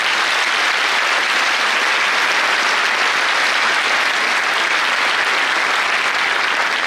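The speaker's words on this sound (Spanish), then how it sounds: "Muy merecido el aplauso" An audience at an induction course event breaks into loud, dense, sustained applause with no gaps, close and filling the whole stretch.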